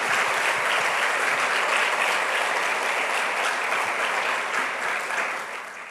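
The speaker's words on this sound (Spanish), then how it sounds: "le damos un aplauso al Señor" A church congregation applauds during a Sunday service led by a pastor, a dense, steady wash of many hands clapping together that stays loud throughout and tapers slightly at the end, with no talk over it.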